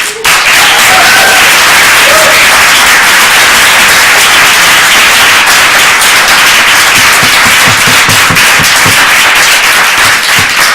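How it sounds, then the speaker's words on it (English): Sustained audience applause fills a township council meeting room in West Windsor, New Jersey, loud, dense and continuous from start to finish, with no talk heard above it. "We appreciate the applause"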